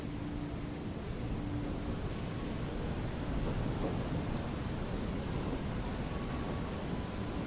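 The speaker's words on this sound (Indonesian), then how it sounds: "Tunggu hujan dulu ya." Steady heavy rain pattering on surfaces, a dense constant hiss with a faint low rumble of distant thunder underneath.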